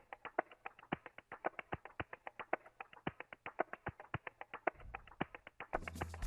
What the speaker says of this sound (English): And then lastly, we have this percussion loop.